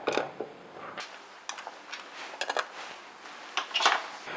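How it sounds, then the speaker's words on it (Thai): Metal nuts clink and tick as they are dropped in and tightened by hand on the control box of a 2-inch 750W solar-powered centrifugal pump, in sparse, irregular light taps and scrapes. "เดี๋ยวจะปิดตู้แล้วก็จะขันน็อตนะครับ"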